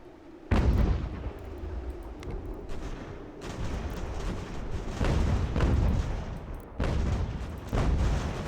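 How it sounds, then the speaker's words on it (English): Artillery fire in the strategy game Ultimate General: American Revolution, a dense rumble of cannon booms that rolls in waves, several heavy volleys rising and falling over continuous battle noise, with no talking. "want this gun to shoot him"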